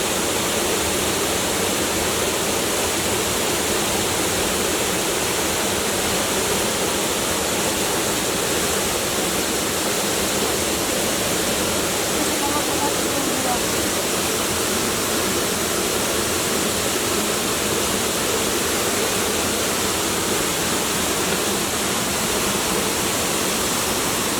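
Kima Atas waterfall near Manado pours down in a constant, loud, unbroken roar of falling water that fills the whole stretch evenly, with no voices or other sounds above it.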